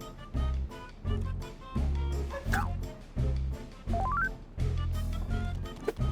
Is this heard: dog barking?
yes